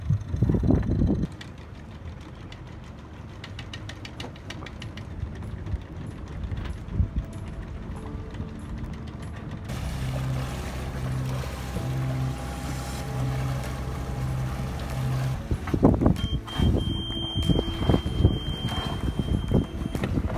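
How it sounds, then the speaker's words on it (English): A sailboat under way at sea, with steady wind rushing past the microphone, water washing along the hull and occasional knocks and creaks aboard, and no talking. "Sound of sailing."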